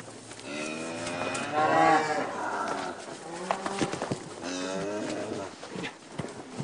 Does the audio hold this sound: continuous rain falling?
no